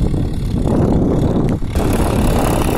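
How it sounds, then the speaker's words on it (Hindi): A Swaraj 744 XT tractor engine runs steadily at close range during deep ploughing, a loud continuous low rumble with a brief dip partway through. "भाइयों अभी इस ट्रैक्टर की जो आवाज़ है भाइयों करीब 3-4 किलोमीटर दूर तक चारों साइड किसानों को भाइयों सुनाई दे रही होगी इस ट्रैक्टर की आवाज़"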